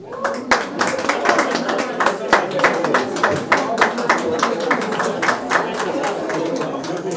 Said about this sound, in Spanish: Y qué bueno recibirlos con un fuerte aplauso.